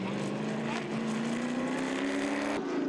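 V8 race cars, including a Ford Mustang and a Ford Transam, roar at the front of the field at the Magny-Cours circuit. The engines make a loud, continuous howl whose pitch climbs gradually, with a commentator talking over it.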